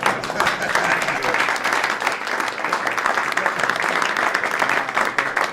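Cabinet members at a government meeting give Elon Musk sustained, dense applause that holds steady for several seconds with no break, loud and close.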